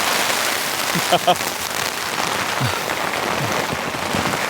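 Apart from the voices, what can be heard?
heavy rain falling on a tent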